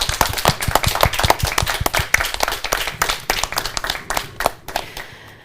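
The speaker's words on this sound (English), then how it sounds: "Give them a big applause." A seminar audience applauds its speakers with dense, loud, rapid clapping from many hands. The clapping holds steady for several seconds, then thins out and fades toward the end.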